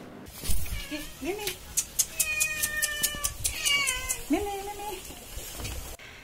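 A cat meows twice, at the start and again later, in drawn-out rising cries. Sharp clicks and tapping fill the gap between them, with no talking.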